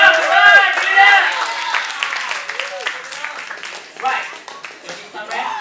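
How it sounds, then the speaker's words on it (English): An audience at a funk dance battle gives a round of applause, a dense wash of clapping that is strongest at the start and then thins out, with voices talking over it throughout. "one more round of applause"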